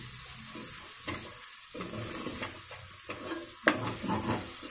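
Tomato and masala for mutton curry frying and being stirred in a pan, a steady close sizzle broken by repeated scraping strokes of a spoon, with no talking.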